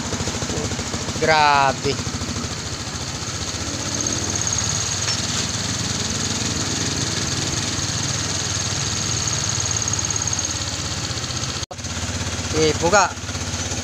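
A Honda Click scooter engine runs steadily at close range, a constant buzzing drone that holds for the whole stretch, with brief voices speaking over it near the start and end.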